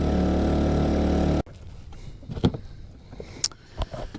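A Honda 2.3 HP outboard motor on a Pelican Bass Raider boat runs at half throttle, a loud steady droning hum for over a second before cutting off abruptly, followed by quieter knocks and water noises.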